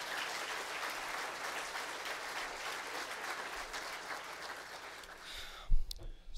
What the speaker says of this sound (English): So I know he can hear us if we clap.